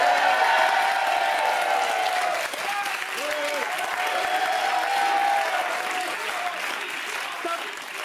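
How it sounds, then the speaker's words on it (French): A studio audience claps in a dense, steady wave of applause with a few cheers mixed in. The clapping swells and dips slightly without stopping. "le public m'acclame"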